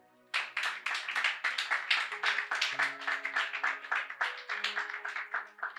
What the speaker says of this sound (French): Est-ce qu'on peut applaudir pour nous-mêmes?